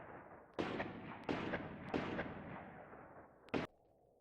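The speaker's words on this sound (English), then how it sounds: "We're going to use that last untapped mortar platoon. They'll begin a bombardment" Mortar platoon bombardment in a Graviteam war game: four loud, booming blasts about half a second to a second apart, each with a long rumbling decay, the last one short and sharp.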